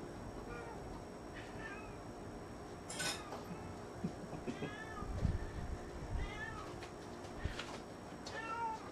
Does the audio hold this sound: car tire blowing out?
no